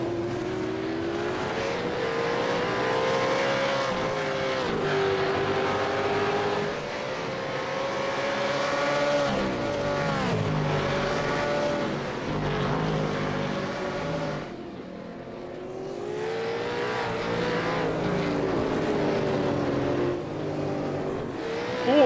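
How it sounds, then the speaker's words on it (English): V8 Supercars sim racing at Imola, with a Mustang among the cars: a steady, loud engine drone from several race cars running close together, pitch rising and falling through gear changes and corners, continuous throughout. "Does get right back under the rear wing of that Mustang of Crosby."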